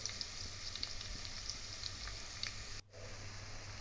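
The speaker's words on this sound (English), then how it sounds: "splutter mustard seeds and jeera" Mustard seeds and cumin splutter in hot oil for a bottle gourd and baby chickpea curry, making a dense, even sizzle with scattered tiny pops. It is fairly quiet and steady, cuts off briefly near the end, then resumes.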